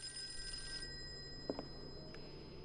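A telephone rings faintly under a steady background hum, with a couple of brief tones and no one speaking.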